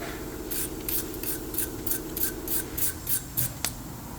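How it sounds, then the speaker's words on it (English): Brake cleaner and a brush worked over reused rear brake hardware on a 2012-2017 Toyota Camry, heard as a run of short, regular rasping scrub strokes, close and fairly steady, with no talk. "Spray some brake cleaner and brush it."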